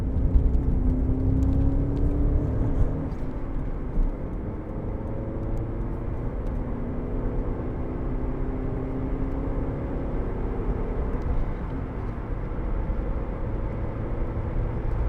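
A 2003 Alfa Romeo GTV with a 2.0 Twin Spark 16v engine and five-speed gearbox accelerates, its engine note heard from inside as a steady, loud drone with rising tones.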